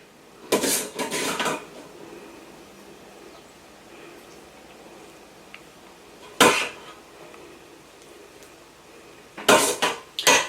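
A spoon clanks and scrapes against a pot while cheese is mixed into a cheesy mac and cheese with bacon, in three short bursts of stirring separated by quiet stretches.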